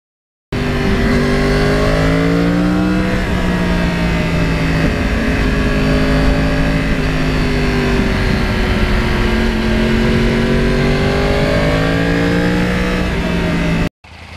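A custom Yamaha R1 Crossplane 1000 motorcycle accelerating hard through the gears, its loud close engine note climbing in pitch repeatedly with brief dips at each shift, a continuous roar that cuts off abruptly near the end.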